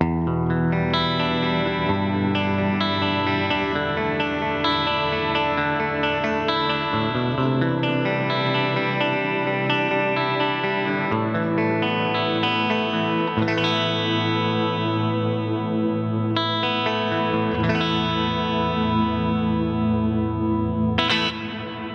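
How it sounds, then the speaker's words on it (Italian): Electric guitar played through a Line6 Helix with a stereo large-room reverb emulation, sustained chords and notes ringing out with a wide, lingering wash and slight modulation, played alone without talk. "l'emulazione di un riverbero di una stanza abbastanza grande"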